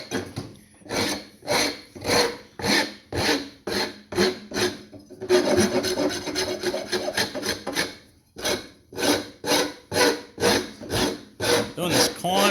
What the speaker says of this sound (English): I've swapped to this bigger rasp. The first one is it takes the wood off a little bit faster.